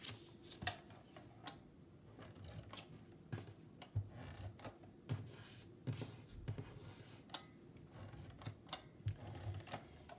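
Adhesive tape goes onto four paper box tabs for a small holiday cup tote, heard as faint, close crackles, taps and short rips repeating irregularly over a soft background hiss.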